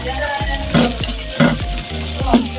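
Chopped tomatoes and spice paste frying in a pan, a loud close sizzle broken by regular spatula scrapes and knocks about every half second, with no talking.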